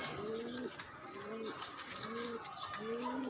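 Pigeons cooing in a rooftop garden, four repeated rolling coos at an even pace over a soft outdoor background, fairly near and with no talk.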